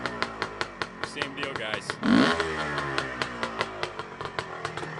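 A 1974 CZ250 motocross motorcycle two-stroke engine idles low with a steady popping beat and a brief throttle blip midway, close and loud, while someone talks briefly over it.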